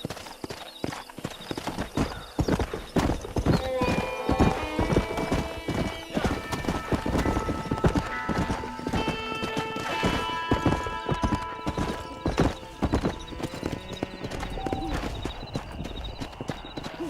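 Horses in a Red Dead western video game galloping with steady, rapid clip-clop hooves and loud whinnies and neighs, under game music tones throughout.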